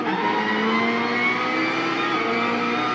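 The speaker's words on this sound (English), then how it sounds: "Put it in second so you can accelerate out of here smoothly." A race car engine pulls hard in second gear out of a corner, a loud steady drone rising in pitch that runs the whole time.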